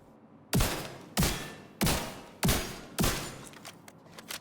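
Five sharp, loud gunshots in an even rhythm, each ringing out briefly, from a shotgun firing in the video game Division 2.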